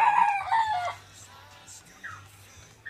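A rooster crows once, fairly close in Tonga, followed by softer distant clucking and faint bird calls.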